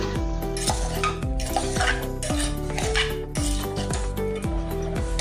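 A metal spoon stirs turmeric, salt and chili powder into pav bhaji in a pan, loud rhythmic scraping and clanking strokes against the metal, repeated about ten times, over a faint sizzle.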